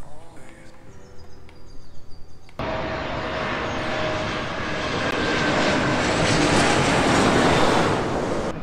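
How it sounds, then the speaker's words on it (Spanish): A loud, steady jet roar swells as an airplane passes overhead near an airport, heard from the Torre Latinoamericana observation deck, rising to a peak and lingering after a quieter stretch of low rumbling. "Cada 5 minutos pasa un avión."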